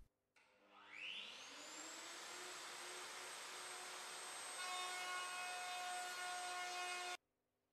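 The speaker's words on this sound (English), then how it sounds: "The female joint on the worktop edge has to be formed in several passes of the router, adjusting the depth with each pass." A router spins up and cuts a female joint into the edge of a kitchen worktop, a loud steady whine with a rising pitch at the start, running continuously for several seconds before stopping abruptly.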